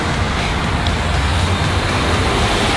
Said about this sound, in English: But I can hear that the traffic is going the way I want to go